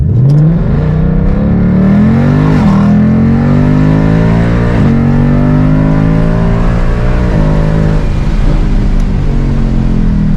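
A loud Ford Mustang 5.0 V8 engine with an H-pipe exhaust revs hard and continuously, with rising pitch sweeps as it accelerates through gears in sport mode, a deep throaty exhaust note throughout.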